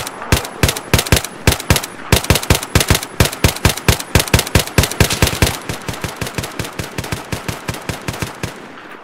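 Rapid automatic gunfire from a modded Battlefield 3 military shooter game in the Gulf of Oman, loud sustained bursts of sharp evenly spaced shots rattling for several seconds without talk.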